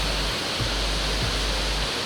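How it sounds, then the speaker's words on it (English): Niagara River water rushing with great force, a loud, continuous broadband roar of fast-flowing rapids close by, steady throughout with no voices. "Look, the river is coming in such speed and look, the water is coming in such force."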